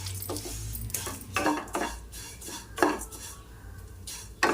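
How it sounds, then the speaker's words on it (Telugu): Vermicelli is stirred in a pan for jaggery payasam, a spoon scraping and clinking against the metal in quick repeated strokes over a faint background hum. "సేమే వేసుకున్న తర్వాత ఇట్లా మంచిగా కలుపుకోవాలి"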